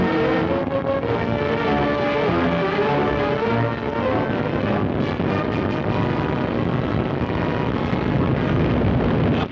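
A three-stage 72-foot rocket at Cape Canaveral roaring at launch, a loud continuous rumbling blast with a dense, unbroken wall of sound that holds steady throughout, as on an old film soundtrack.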